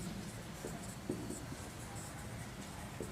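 Pen or chalk writes a line of a physics derivation in steady faint scratching strokes, with brief louder taps, against a constant background hiss in a classroom-style lesson on electric potential.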